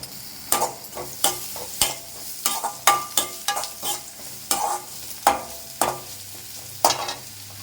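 Onions and carrots sizzle in a pan while a spoon stirs repeatedly, giving a steady series of scraping clicks over the frying hiss.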